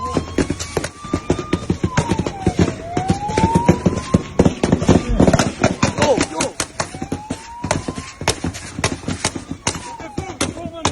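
Rapid bursts of sharp gunshots crack repeatedly in Ashdod, Israel, some in quick clusters, over a wailing siren rising and falling in the background.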